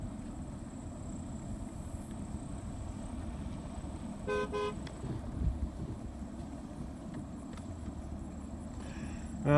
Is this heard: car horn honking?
yes